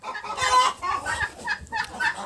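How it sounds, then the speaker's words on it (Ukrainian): A chicken clucks repeatedly at close range in a farmyard among turkeys and ducks, with a series of short, uneven clucks and no speech. "І курка тут, як тут."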